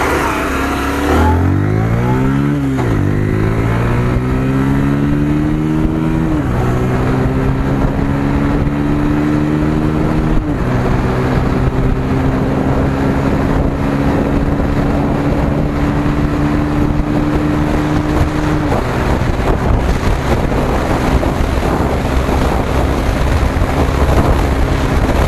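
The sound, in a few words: Bajaj Pulsar 125 motorcycle accelerating through gears at top speed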